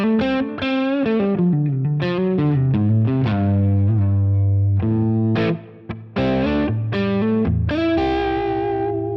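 Clean electric guitar on the neck pickup through a ribbon mic model, played as melodic single notes and chords, warm and somewhat muddy in tone, with a brief pause near the end.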